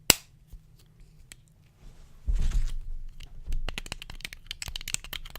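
Sharp little plastic clicks of an Apple AirPods charging case snapping open and shut, several in quick succession near the end, close and crisp against quiet handling noise.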